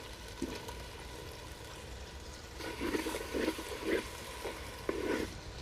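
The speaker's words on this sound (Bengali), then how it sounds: "মশলাগুলো মোটামুটি ভাজা হয়ে গেছে এবারে দিয়ে দিব টমেটো কুচি" Low frying sizzle with bursts of stirring and scraping in a clay pot as chopped tomatoes fry with spices, getting busier partway through; no voices.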